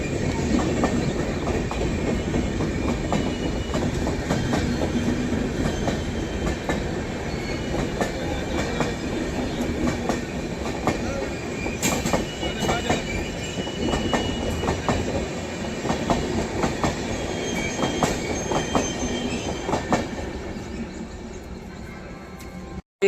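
An express train runs on the rails near Tundla, its wheels clattering in a rapid rhythmic clickety-clack over a loud continuous rumble that holds close throughout.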